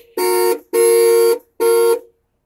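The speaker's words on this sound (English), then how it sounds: "Did you just honk the horn?" A Dodge Polara's rim blow horn honks three times, loud and close: two longer blasts and then a shorter one, with brief silent gaps between them.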